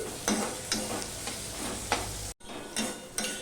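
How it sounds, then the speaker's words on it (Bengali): Chopped onion and garlic fry in a hot pan, a steady close sizzle broken by regular scrapes of a spoon stirring, with one brief dropout near the end. "দেখো বন্ধুরা পেঁয়াজটা ভাজা হয়ে গেছে"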